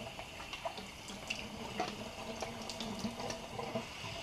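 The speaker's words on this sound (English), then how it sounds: "I rinse out the cup each time." Faint running tap water splashes and drips while a measuring cup is rinsed during hydroponic nutrient mixing. It is a soft, continuous trickle with small irregular splashes.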